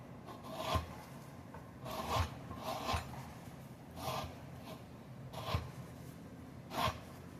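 Citrus peel being zested on a grater for scones, a soft rhythmic rasping of several strokes at a steady pace, close and fairly quiet.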